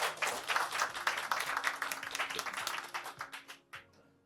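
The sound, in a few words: audience applause at award ceremony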